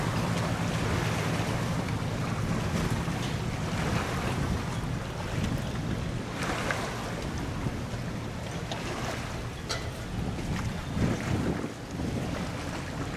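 A large two-cabin river barge passes slowly while waves wash and churn against the bank and heavy wind buffets the microphone. The rushing water sound is continuous and fairly loud, with no voices.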